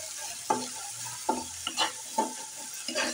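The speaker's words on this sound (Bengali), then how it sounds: "পেঁয়াজ কুচিটা একটু আলতো করে ভাজা দিয়ে তার মধ্যে 1 চামচ আদা বাটা, 1 চামচ পেঁয়াজ বাটা দিয়ে ভালো করে একটু কষিয়ে নিচ্ছি।" Chopped onion with ginger paste and onion paste is sautéed in a wok. A spatula scrapes and stirs in regular strokes about every half second over a soft sizzle, close and clear, with no talk.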